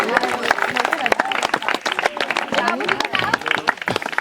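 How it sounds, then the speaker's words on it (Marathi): Spectators applaud as runners reach the finish of a local taluka marathon, brisk dense clapping running steadily throughout with loud talk over it. "टाळ्या वाजवा."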